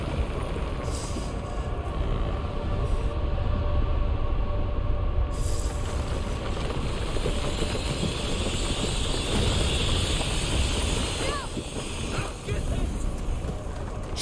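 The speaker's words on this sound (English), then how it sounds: "Rat waves." A swarm of rats rushes past in waves in A Plague Tale: Requiem, a dense, continuous skittering roar that swells and ebbs without letting up.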